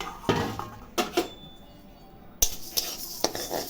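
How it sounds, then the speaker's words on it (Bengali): Mashkalai and mung lentils dry-roasting in a hot wok, with scattered close clinks and scrapes of a utensil stirring against metal, brief bursts between quieter stretches, no voices. "ডালটা আগে আমি কড়াইয়ে ভেজে নিচ্ছি"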